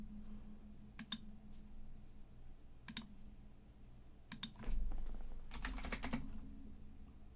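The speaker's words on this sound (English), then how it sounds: "I can hear you typing from my room." Someone types on a computer keyboard in a quiet room: several short bursts of rapid clicking keystrokes separated by pauses, ending in a longer flurry, fairly close and crisp over faint background hum.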